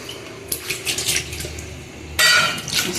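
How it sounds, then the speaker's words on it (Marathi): Prawns washed in water in a bowl, with clattering, rattling contact against the bowl and a louder splashing rush near the end, close by and with no voices. "आता आपण ही तीन ते चार पाण्यात स्वच्छ धुवून घेणार आहोत"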